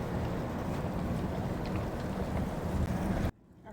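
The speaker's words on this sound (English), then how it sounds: "It's the wind." Strong wind outdoors downtown, loud blustery buffeting against the microphone that roars steadily for about three seconds, then cuts off abruptly to quiet.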